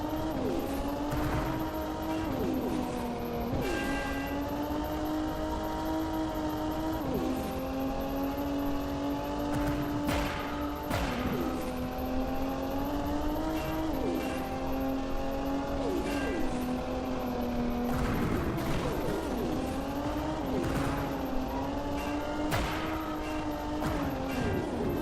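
Racing car engines from the video game Fender Shot drone and shift pitch continuously, with repeated whining revs and occasional sharp bursts that could be gunfire layered over the steady motor noise.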